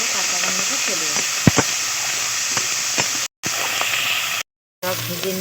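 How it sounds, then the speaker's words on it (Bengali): Ground onion, ginger and garlic paste fries in hot oil for a fish curry, giving a steady, close sizzle with a few sharp pops. The sizzle breaks off briefly twice. "এদেরকে কতক্ষণ পর্যন্ত ভেজে নেব, যতক্ষণ না এর কাঁচা গন্ধটা চলে যাবে"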